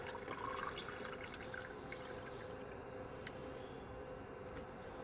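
Water is poured into a DIY water filter and trickles through in a soft, steady flow with faint drips. It stays low and continuous, with no voices.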